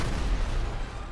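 Dense, rumbling bursts of gunfire and booms in GTA Online, continuous and fairly loud throughout, with no clear gaps between shots.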